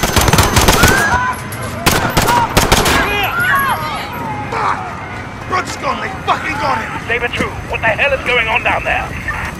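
Call of Duty Modern Warfare fight at Piccadilly Circus: sharp bursts of close gunfire in quick clusters, with shouting voices throughout and a continuing noisy, chaotic scene after the shots.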